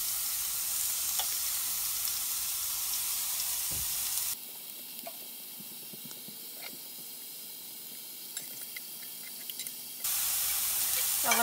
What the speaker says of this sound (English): I'll let this sausage cook till it releases.